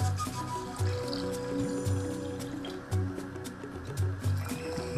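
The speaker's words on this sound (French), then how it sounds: "de l'eau. Une certaine quantité, disons un quart de la marmite." Water is poured into a cooking pot with repeated gurgling splashes and a filling trickle, close and fairly quiet, while a person speaks briefly.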